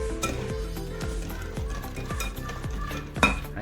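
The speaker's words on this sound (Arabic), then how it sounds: "هننزل بالزيت كده تدريجيا مع التقليب" A whisk beats oil into an egg, sugar and vanilla batter in a bowl, producing rhythmic clinking strokes against the side at a steady pace, with one louder clink near the end and no talking.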